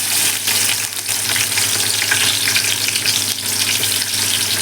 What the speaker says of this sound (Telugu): మంచిగా ఉల్లిపాయ కూడా మంచి రెడ్ కలర్ రావాలి ఆ విధంగా వేయించుకుందాం